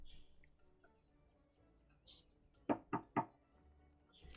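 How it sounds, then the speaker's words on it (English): Three sharp knocks on a door, evenly spaced and close, standing out against a quiet background with a faint chirp nearby, in the setting of a tabletop fantasy role-playing game. "I guess I'll knock."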